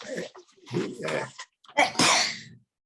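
A couple of sharp sneezes, the second loud and forceful, with short breathy intakes before them and no other sounds around.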